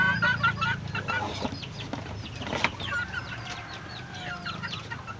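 Young roosters (stags) cluck and call steadily at feeding time among a flock of backyard chickens, several birds overlapping at close range with a brief crow-like burst midway and no talking.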